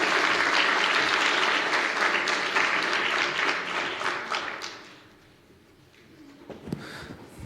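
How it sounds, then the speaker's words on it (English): Loud, dense audience applause at a public debate on Christianity, sustained for several seconds before fading out, with a few scattered claps and a brief sound near the end. "Both sides, big round of applause."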